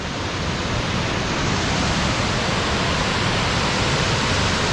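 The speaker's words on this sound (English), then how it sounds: "the big waterfall is just around the corner" A roaring waterfall on Mount Rainier's Wonderland Trail, a steady dense rush of water filling the whole clip, loud and continuous with no voices.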